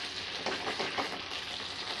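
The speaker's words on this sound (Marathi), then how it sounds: "ते छान भाजलं जातं आहे मसाला आणि छान तेलही सुटलं आहे।" Spice masala roasting and sizzling in released oil in a pan for a Gudi Padwa festive dish, a steady close crackling hiss with a few soft stirring scrapes, no voices.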